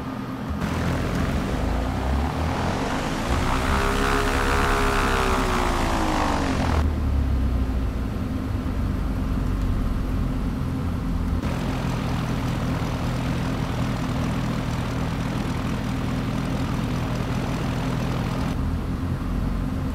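A propeller airplane lands in the X-Plane 11 flight simulator at Harrisonville, Missouri, with a steady loud engine drone whose pitch sweeps up and back down early on, then a lower, even hum that shifts tone partway through.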